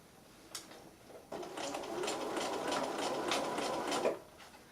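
A sewing machine stitches a soft toy bear at a slow, comfortable pace, a brief whir first and then a steady mechanical hum with rhythmic clicking that runs for about three seconds before stopping.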